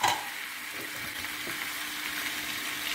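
Achari aloo with a curd and cashew mixture sizzles in a pan while being stirred, a steady close frying hiss with soft scraping and no talk.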